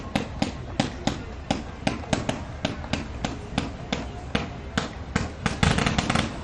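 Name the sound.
fireworks show at the boat parade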